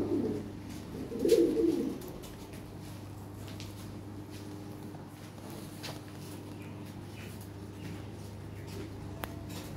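Pigeons cooing at a Lahori pigeon fair, a soft low coo burst near the start, then quieter cage rustles and faint background murmur through the rest.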